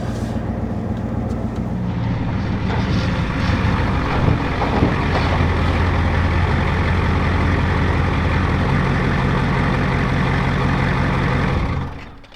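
A truck being driven gives off a steady, loud engine and road rumble that carries on without a break for about twelve seconds, then quickly fades away at the end.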